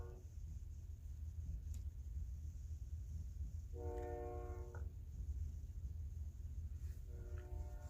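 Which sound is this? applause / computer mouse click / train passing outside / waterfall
train passing outside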